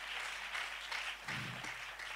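A church congregation applauding during worship, a steady spread of many hands clapping with fuller, denser clapping in the second half, continuous and moderately loud without speech.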